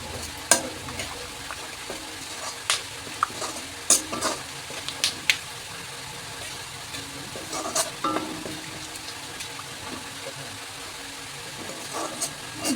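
Whole cinnamon, cardamom and cloves frying in oil left from frying potatoes, a continuous close sizzle broken by sharp spatula scrapes and clacks against the pan.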